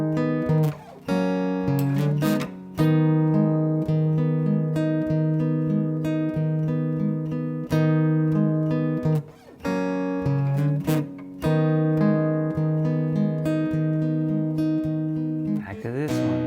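Acoustic guitar fingerpicking chords from a song in a steady repeating pattern, bright ringing notes with a few brief pauses and chord changes, played close and clear.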